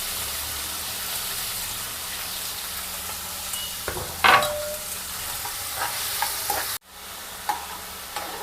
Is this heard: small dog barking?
no